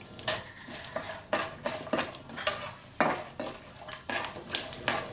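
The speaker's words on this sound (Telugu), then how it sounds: "ఇవి కొంచెం కలుపుకుంటూ వేయించుకోవాలి." Chana dal and urad dal frying in a pan, stirred with a metal spoon that scrapes and clinks against the pan in a steady irregular rhythm over a light sizzle.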